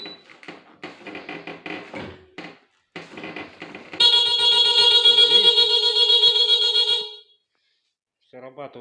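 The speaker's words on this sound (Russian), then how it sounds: "срабатывает сигнализация у нее штатная" Factory-fitted alarm on a Suzuki Let's 4 Palette four-stroke fuel-injected scooter blares a loud, steady electronic siren tone for about three seconds, following talk and handling noise, then cuts off before talk resumes.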